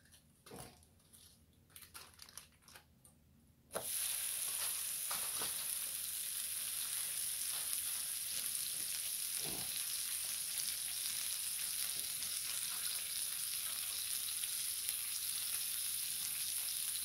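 A smash burger patty hits a hot griddle and breaks into a loud, steady, hissing sizzle that continues unbroken, after a few seconds of quieter handling sounds.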